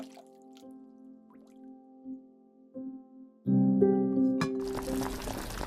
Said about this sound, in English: Rinse the spinach with water.